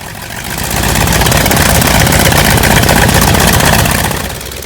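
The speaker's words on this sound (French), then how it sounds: "Et le moteur va démarrer." A North American T-28 aircraft's piston radial engine starts with the pilot on board, the roar building within a second into a loud, steady, close rumble before easing slightly at the end.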